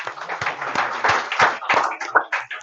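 Students in an accounting class clap for a classmate, a brief ragged round of close hand claps with uneven rhythm, a few sharper individual claps near the end.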